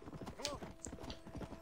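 Horse hooves clip-clopping at a steady gallop in the Western game Red Dead Redemption on Xbox 360, with a whinny partway through and a quiet voice talking underneath.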